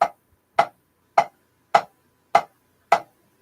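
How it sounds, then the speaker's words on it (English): Six crisp, evenly spaced straight eighth-note taps on a drum practice pad in a steady rhythm, close and clear with silence between hits. "So straight eighth notes sound like this."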